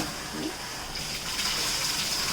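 Water runs steadily while a bathroom is rinsed clean, a continuous hissing wash at moderate level with no pauses, close by and without voices.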